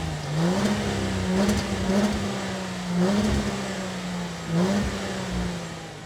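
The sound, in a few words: 2025 Jaguar F-Pace R-Dynamic S engine running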